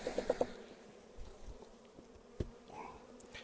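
Honey bees buzz around an opened beehive's frames, with a few short, clear buzzes of passing bees at the start followed by a softer, scattered hum at moderate distance.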